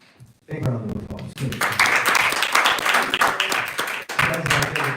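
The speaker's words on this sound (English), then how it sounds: "Big round of applause" An audience at a Bhagavat Sravana talk breaks into loud applause after a brief pause, sustained clapping from many hands with voices and cheers mixed in, dipping once before continuing.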